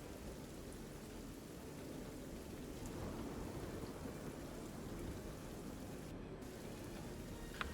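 A thunderstorm ambience plays during a tabletop role-playing session, with steady heavy rain hissing throughout and a low rumble of thunder swelling in the middle. It is continuous and fairly loud, with no voices.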